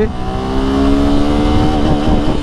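A 150cc sports motorcycle engine revs hard in first gear, its buzzing note rising steadily and loud close by, with no speech.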